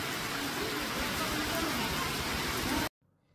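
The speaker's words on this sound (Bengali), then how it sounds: "পরদিন সকাল সকাল প্রচুর বৃষ্টিপাতের শব্দে ঘুম ভাঙল।" Heavy morning rain pours in a dense, even hiss close by, holding steady for almost three seconds before cutting off abruptly into near silence.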